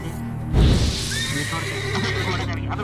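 A horse in The Witcher 3 video game lets out a loud whinny that rises in pitch and then wavers down, set over a steady game soundtrack and ambience, with a heavy low thump just before it.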